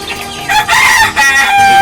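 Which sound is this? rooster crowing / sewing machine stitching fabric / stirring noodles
rooster crowing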